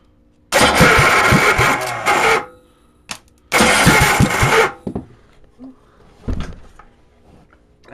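Cold engine cranking with the choke on in two rough bursts of a couple of seconds each that catch briefly and die, then a short sputter, with quiet gaps between.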